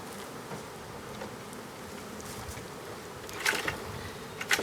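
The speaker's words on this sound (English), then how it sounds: "A lot of them seem to be swarming right back to your box in your hand." Honeybees swarming back into a hive box held in hand, a steady dense buzzing hum throughout with a few louder close passes near the end, no talking.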